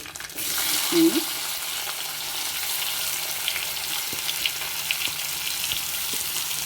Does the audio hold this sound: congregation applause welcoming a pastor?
no